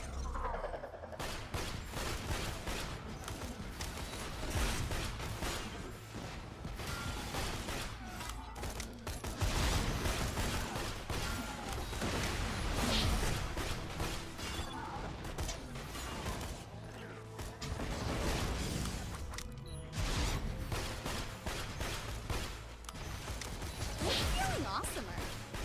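Explosions and gunfire from grenades in the Borderlands 2 shooter game, loud and repeated across the whole stretch in a dense, chaotic barrage, with someone talking over the action.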